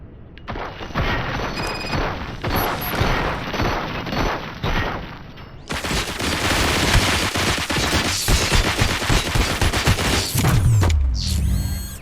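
Sustained gunfire in the RoboCop: Rogue City video game, dense rapid bursts and heavy booming shots packed together, growing louder and fuller midway before a mechanical whir near the end, with no talking over it.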